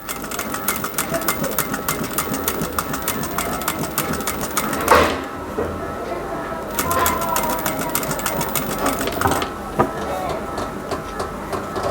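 A sewing machine stitches gathers into a puffed sleeve, whirring in fast rattling runs with brief stops while a person talks over it.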